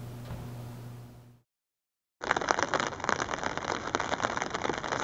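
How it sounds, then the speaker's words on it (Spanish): Steady rain patters densely on a surface, close and even, with a short break of silence before the downpour resumes with crackling drops. "Está lloviendo para un cambio."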